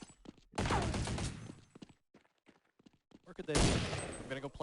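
Bursts of automatic gunfire in an early Counter-Strike 1.0 match, two loud dense volleys separated by a quieter stretch of scattered shots and footsteps, with a voice talking over the first burst.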